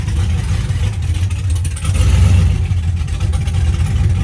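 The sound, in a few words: car engine running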